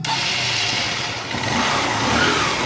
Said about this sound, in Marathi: सिंगल सेल्फमध्ये गाडी स्टार्ट आहे आणि आयडलिंगवर प्रॉपर थांबलेली आहे बघा